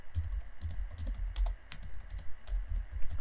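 Quick, close typing on a computer keyboard in a computer lab, irregular clusters of crisp key clicks with brief pauses between bursts.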